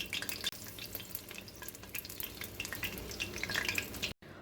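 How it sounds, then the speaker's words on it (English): Corn fritters fry in a pan of hot oil, giving a steady close sizzle and crackle with busy popping throughout, broken by a brief dropout near the end. "I'm going to fry them 2 to 3 minutes on each side"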